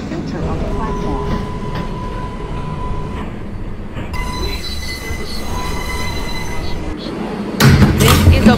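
A New York City subway R142A 4 train on the express run between New Lots Avenue and Woodlawn, heard from inside the car as a steady rumble with long, high wheel squeals on curves and a louder clatter burst near the end.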